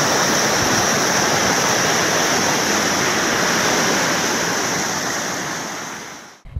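Flood water rushing over roads after heavy rain, a loud, steady broadband roar close to the microphone that fades out at the end.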